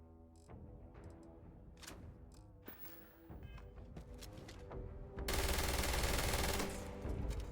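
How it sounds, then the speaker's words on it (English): Rapid automatic gunfire from the fastest-firing weapon in Starfield, dense bursts of shots that build into a loud, continuous roaring stream near the end, with sporadic impacts earlier. "Unlike the fastest firing weapon in the game?"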